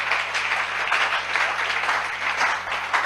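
Church congregation at a French-language worship service applauding together, a dense, steady wash of clapping that holds at full strength throughout, loud and close, with no talk over it.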